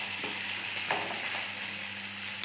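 Carrots sautéing in a pan with salt, a steady close sizzle and hiss of frying with soft scraping strokes of stirring, no voices.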